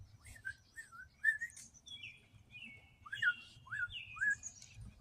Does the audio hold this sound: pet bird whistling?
yes